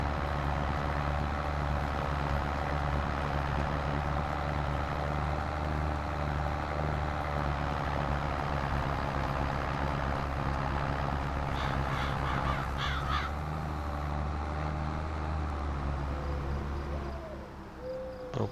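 An old-school tractor engine in the Farming Simulator 22 video game drones steadily with a low rumbling idle, loud and continuous, with a few brief higher clatters near the end and no talk.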